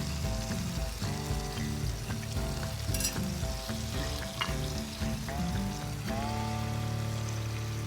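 Bacon frying in a pan for homemade burgers, a steady loud sizzle and crackle throughout, with occasional stirring and hum-like tones underneath.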